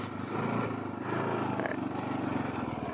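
A Kawasaki KLR650 dual-sport motorcycle engine rides off road, its steady close drone shifting pitch as it changes up into second gear, with no talk over it.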